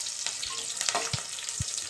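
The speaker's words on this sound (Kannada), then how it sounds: "ಚೆನ್ನಾಗಿ ಫ್ರೈ ಮಾಡ್ಕೋಬೇಕು" Sliced onion frying in oil with pulao spices in a pot, a soft continuous sizzle with occasional stirring knocks, close and fairly quiet.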